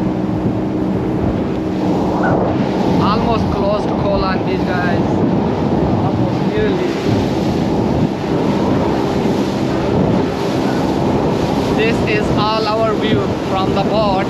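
A boat crossing the sea near Koh Larn island off Pattaya, with constant engine rumble, rushing waves and wind buffeting, and voices chattering faintly underneath.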